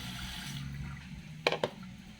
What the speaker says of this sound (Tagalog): Lagyan ko ng tubig.